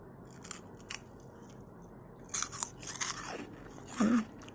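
Sharp, crisp crunches from biting into a crunchy dinosaur-shaped snack, followed by a few scattered chewing crackles, close up against a quiet background.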